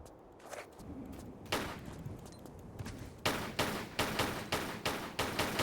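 Gunfire in the Tomb Raider 4 video game, a run of sharp shots repeating at a steady pace and growing louder toward the end over a noisy background, with no speech.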